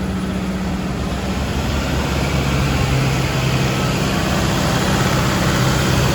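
A car engine runs steadily at about 2000 RPM, a loud, constant low drone with an even hum and no breaks, heard close up during air conditioning work.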